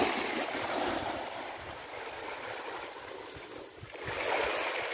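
Gentle waves washing against the northern shore of Pulau Tunda island, a soft continuous rush of water that dips briefly and then swells again, with no voices.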